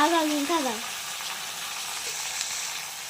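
Potatoes frying in a pan with dried red chillies and curry leaves for aloo fry, a broad continuous sizzle with a short voice-like tone at the start, close and steady.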